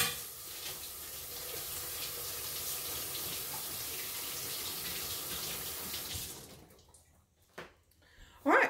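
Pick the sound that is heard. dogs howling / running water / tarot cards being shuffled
running water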